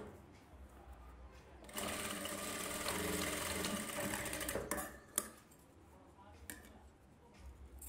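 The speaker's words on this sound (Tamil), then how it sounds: "அந்த ரோப்பு கிட்ட ஒரு தையல் போட்டு" A tailor's sewing machine runs a stitch along a rope, a continuous mechanical whir at close range lasting a few seconds, starting and stopping abruptly, with light handling clicks before and after.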